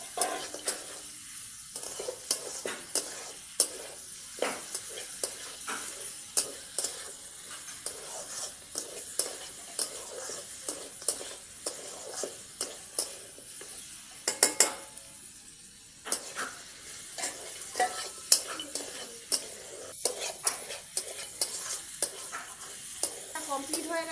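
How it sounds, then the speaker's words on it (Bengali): Fish head fries and sizzles in a pan for thick moong dal, with steady stirring and frequent spoon scrapes and clinks against the metal pan throughout. "এবার মাছের মাথাটা দিয়ে একটু কষছি"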